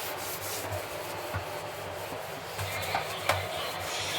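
Steady, close scrubbing as a stained surface is rubbed clean by hand, a continuous rasping friction with a few small knocks and no talk.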